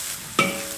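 Garlic and scallions hit a hot wok for stir-frying, giving a single sudden burst of sizzle that settles into a steady frying hiss, with no one talking.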